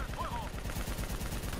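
Rapid bursts of automatic gunfire in the Call of Duty: Black Ops 3 campaign, a fast, regular stream of shots with a faint voice underneath.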